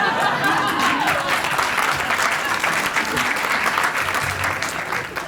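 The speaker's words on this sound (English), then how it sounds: "I watched the entire courtroom burst into applause, just like you did now" An audience bursts into applause during a speech by Chief Judge Rowan D. Wilson, a dense, loud, sustained clapping that fills the room and tapers slightly toward the end, with a few chuckles mixed in.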